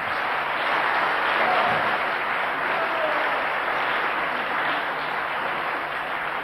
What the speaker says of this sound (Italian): Vorrei accoglierla con un applauso caloroso